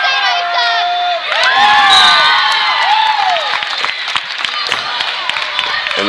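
The Okeene crowd at a girls' basketball game at Watonga roars loudly and continuously, with shrill shouts and whoops rising over the packed noise for the whole stretch.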